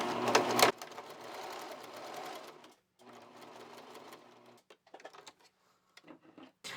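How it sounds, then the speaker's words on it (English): A sewing machine bastes a long stitch along the center front seam of a pair of shorts, running in two steady bursts with a short pause between, followed by scattered clicks and handling sounds. "I'm going to just baste along the center front seam to where we did that pivot point"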